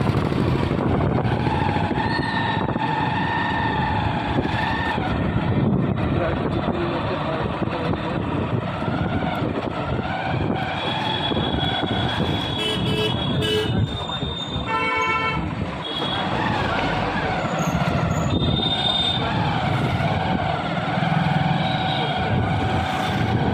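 A vehicle rides along a busy road heading into Howrah, with a continuous loud traffic rumble and repeated sharp horn blasts cutting through, some close by and overlapping.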